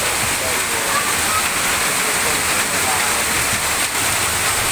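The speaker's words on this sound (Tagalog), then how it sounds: "sobrang lakas ng ulan dito at konting ulan lang, bahal-baha agad" Heavy rain pours down steadily during flooding in KM Compound, Caloocan City, a dense, constant broadband roar like rushing water with no break across the whole stretch.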